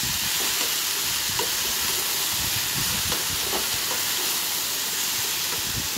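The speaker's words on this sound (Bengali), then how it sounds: "একটু ভেজে, বেশি জল লাগবে না, একটু ভাজবো, ভেজে একটু চাপা দিয়ে রেখে দেবো।" Mixed vegetables frying in a pan over a medium gas flame, giving a steady loud hiss and sizzle with faint crackles throughout and no talking.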